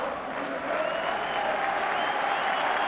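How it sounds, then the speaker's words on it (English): A football stadium crowd at a Rangers versus Motherwell match applauds warmly. The clapping is a broad, distant wash that swells slightly and then holds steady. "he's getting some warm applause"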